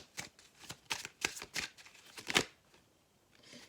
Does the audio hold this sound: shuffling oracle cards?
yes